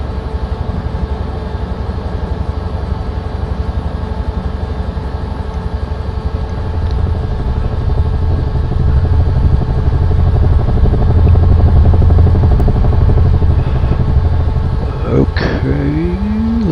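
A helicopter in Microsoft Flight Simulator 2024 spools up for takeoff, its steady rotor and turbine drone building in loudness partway through, with a brief rising whistle-like tone near the end.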